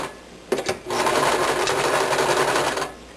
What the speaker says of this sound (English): Now stitch a 1/4 inch seam allowance around.